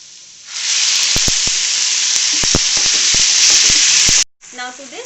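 Tomato puree hits hot oil with golden-brown fried onions for a kadhai mushroom curry, bursting into a loud, steady sizzle that runs several seconds with a few clicks and scrapes, then cuts off abruptly before a brief quieter stretch.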